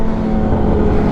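A Kawasaki ZH2 supercharged motorcycle engine runs close by, giving a brief, loud, steady roar with dense low rumble.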